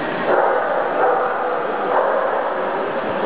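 Dogs bark and yip in a steady, busy din, with several animals sounding at once amid a noisy crowd.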